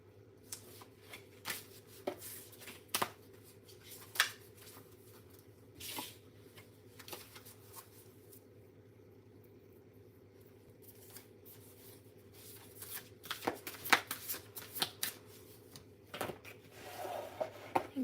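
A deck of playing cards shuffled indoors in a quiet room, with bursts of riffling and snapping clustered near the start and again toward the end, separated by a hushed stretch.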